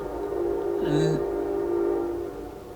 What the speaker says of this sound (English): That's the fucking train. You hear it?